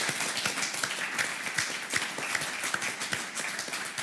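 Studio audience at a live regional broadcast about property, recorded at a notaries' house in Nîmes, clapping in a dense, steady patter of many hands, moderately loud and continuous with no break, with no voices over it.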